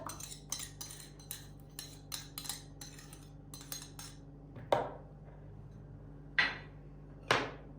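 A utensil clinks against a bowl while two eggs and two tablespoons of yogurt are mixed for baklava dough. Light, scattered taps give way to a few sharper, louder clinks near the end, with no speech.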